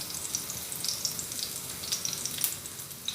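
Garlic sizzles and browns in a pot, a steady close crackle with small pops and faint scraping as the cloves are spread out.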